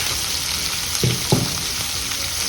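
Onions, curry leaves and urad dal fry in hot oil with a steady close sizzle, punctuated by two low knocks of a spoon stirring the pan.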